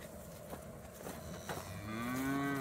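Black Angus cows being herded along on a farm in the morning, with one giving a long, low, rising moo near the end over a steady outdoor background.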